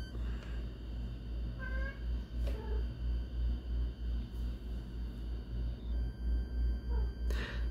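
A house cat meows a few times, short, soft and fairly distant, over a steady low electrical hum.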